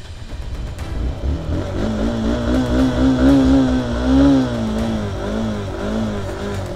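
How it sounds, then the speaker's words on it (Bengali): A motorbike engine strains to start in cold, snowy mountain weather, cranking and sputtering into an uneven, wavering drone that rises and falls loudly and close before settling. No one is speaking. "বাইকটা স্টার্ট নিচ্ছে না।"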